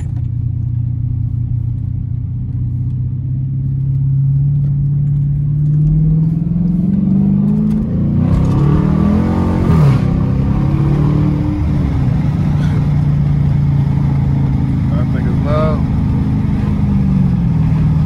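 A car running without a catalytic converter moves through traffic, its engine a loud, steady low rumble with rising revs around the middle; faint background sounds sit under it.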